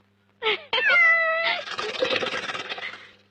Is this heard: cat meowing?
yes